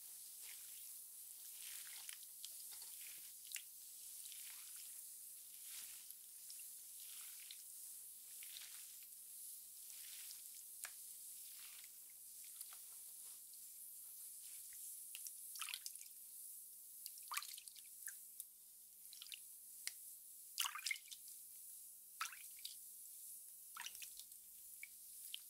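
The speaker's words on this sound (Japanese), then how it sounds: "一度シャンプーしますからね。" Carbonated head spa foam fizzes and crackles while hair is shampooed, heard very close as a steady soft hiss with scattered wet pops and drips. There is no talking.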